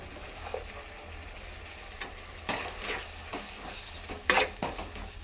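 Tomato cooking in a pan with fried onions for Mandya-style vangi bath, a faint steady sizzle broken by a few sharp scrapes and clinks of a spoon stirring against the pan.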